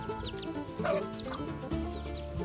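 Chickens in a coop give soft, repeated clucks and short chirping calls, fairly quiet and close, with no talking over them.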